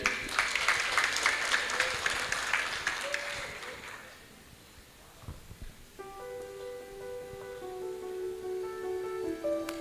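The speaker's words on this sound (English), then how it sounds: "Please welcome Claudia and Jordan and give big applause for them" Audience applause welcoming the performers Claudia and Jordan at an international conference on democracy, a dense clapping burst for about four seconds that fades into quiet, then musical tones begin.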